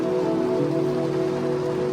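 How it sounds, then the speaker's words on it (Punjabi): Heavy rain in Mansa district makes a steady, unbroken hiss close by, with a low droning hum running underneath and no voices. "ਮੀਂਹ ਬਹੁਤ ਜ਼ਿਆਦਾ ਹੈ"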